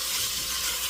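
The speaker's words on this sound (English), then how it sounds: "then I'm going to cook the bacon right in the same pan until it's good and crispy" Bacon sizzling and frying in a pan as the base for a zuppa toscana soup, a steady close hiss of crackling fat with no talking.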